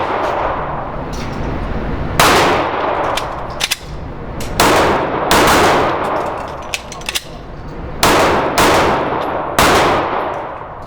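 Handgun shots ring out during a shooting drill, around ten sharp, loud reports in irregular pairs and singles, each with a ringing outdoor decay, with no talking between them.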